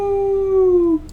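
A voice imitates a werewolf howl, one sustained, tonal wail held for about a second and sliding slightly downward before it cuts off, close and loud with nothing else behind it.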